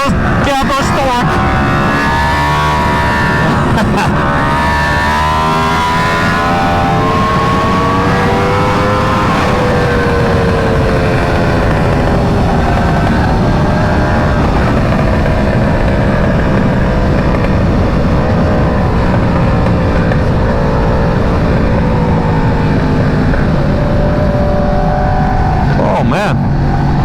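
An Aprilia RSV4 superbike running the Gabro MTorque map pulls hard through rising revs under steady wind rush, its engine note climbing and easing across repeated surges on an open road.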